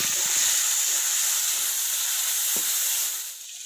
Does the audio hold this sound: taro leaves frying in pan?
yes